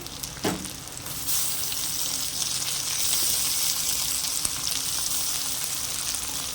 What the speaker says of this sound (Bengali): তো এর মধ্যে আমি কুচিয়ে রাখা টমেটোগুলো দিয়ে দেব।